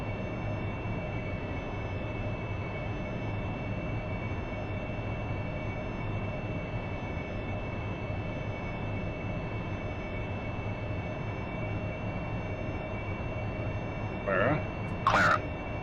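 A Harrier jet engine in the DCS World flight simulator holds a steady, loud roar, with a few brief sharper noises breaking through near the end.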